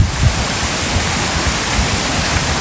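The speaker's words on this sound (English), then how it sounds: "And you see the best waterfall in Grenada." A waterfall in Grenada roars as a steady, loud broadband rush of falling water, close and continuous, with no voices over it.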